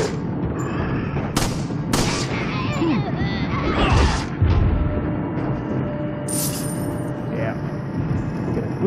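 Shotgun blasts in Resident Evil 4, a few sharp, loud shots spaced a second or so apart amid crashing impacts and game noise, with someone talking over them.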